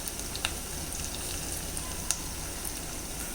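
A tomato curry mixture is stirred and sautéed in a pan, giving a steady, soft sizzle close by with a few light ticks of the spoon against the vessel.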